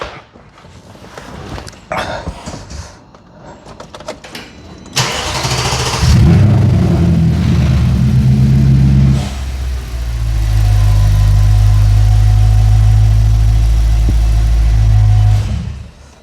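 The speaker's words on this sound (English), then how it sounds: "Let's quickly start the engine up" An Audi RS4 engine cranks and catches about five seconds in, then settles into a loud, steady idle close by, after a few seconds of faint clicks and handling noises. No one speaks.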